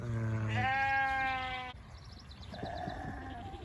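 Sheep and rams bleat in a flock on a small livestock farm, one long loud bleat followed by quieter, more distant calls from others nearby.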